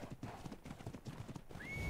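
Horse hooves gallop in the video game ARK Caballus, a steady, fast clip-clop rhythm running throughout at close range, with a rising whistle-like tone sliding in near the end.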